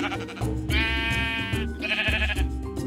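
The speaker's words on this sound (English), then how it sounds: "I decided to bring some sheep over to my base" Sheep in Minecraft bleating twice, close and clear, each a wavering nasal cry lasting under a second with a short gap between.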